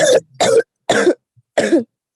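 Four sharp coughs spaced out over a couple of seconds, close and loud, with brief silence between each burst.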